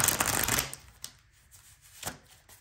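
A tarot deck with unicorn artwork is shuffled close up, giving a dense burst of riffling card noise followed by a few softer flicks and taps.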